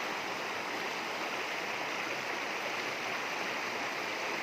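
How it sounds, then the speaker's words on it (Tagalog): A shallow stream (sapa) flows steadily, a soft continuous broadband rush of moving water with no pauses or other sounds. "Yung pinaglakihan ko to nga sapa"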